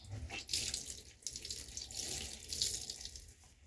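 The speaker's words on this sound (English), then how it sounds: "We're going to put some clean water in here." Clean water running steadily from a tap into a portable washing machine tub for a rinse, a continuous splashing, gurgling flow, close and fairly loud with no talk.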